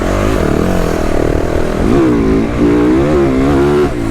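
A 2023 Yamaha YZ450F motocross bike ridden on a track, its four-stroke engine loud and close throughout, revving up and down in shifting pitch with gear changes and throttle surges, with no other voices.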